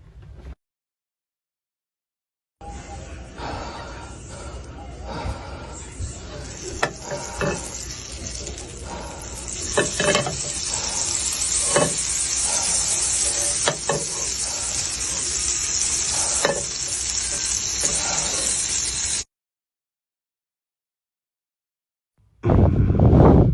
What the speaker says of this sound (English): I love the sound the butter makes when it sizzles.